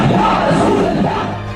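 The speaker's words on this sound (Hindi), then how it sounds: "कई किलोमीटर तक फैली इस भीड़ को देखिए और इस बागी शोर को सुनने और समझने की कोशिश कीजिए" A huge crowd on a Lahore highway shouting together, a loud, dense roar of massed voices that stays constant and fades slightly at the end.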